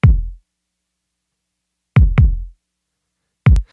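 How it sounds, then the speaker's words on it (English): Isolated low kick drum with a soft, pillowy, weighty attack, struck three times with a long pause, then a quick pair and a final hit, each decaying smoothly with no talk. "what we have happening right there is a kick that sounds a little like this"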